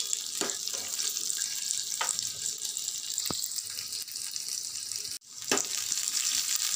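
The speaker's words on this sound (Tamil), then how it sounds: "சின்ன வெங்காயம் ஆட் பண்ணி இது லைட் ப்ரௌன் கலரில் வர வரைக்கும் கொஞ்சம் எண்ணெயில் அப்படி கொஞ்சம் ஃப்ரை ஆகட்டும்" Small onions frying in oil in a pan, giving a continuous soft, hissing sizzle at moderate volume, with occasional stirring clicks and a brief break near the end.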